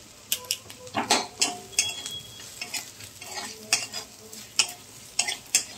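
Asafoetida sizzling in hot oil while a spoon scrapes and stirs the pan, making repeated sharp metallic clinks over a soft steady fry, prepared for chana dal.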